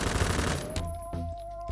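A Korean gun firing at 750 rounds per minute in the shooter game Phantom Forces, a rapid close burst of automatic fire for under a second, then a lone shot and fading echo.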